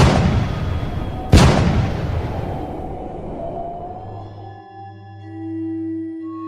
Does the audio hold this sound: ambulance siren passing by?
no